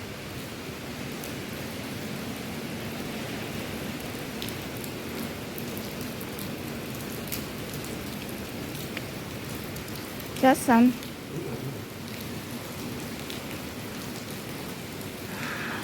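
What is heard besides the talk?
heavy rain during typhoon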